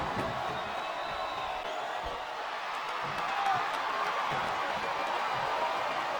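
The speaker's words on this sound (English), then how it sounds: "Wow, listen to that chant, Taz." A large crowd in a wrestling video game, WWE SmackDown vs. Raw 2007, roars in a steady, broad wash of noise, with a rhythmic chant rising from the stands.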